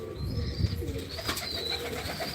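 Pigeons coo and flutter close by on a rooftop where flying pigeons circle a loft perch, with a low continuous warble, a thump, and a few thin chirps over outdoor background noise.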